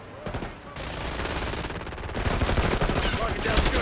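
Call of Duty gunfire crackles in rapid bursts and sustained automatic fire, loud and close, with a brief lull before the shooting builds again.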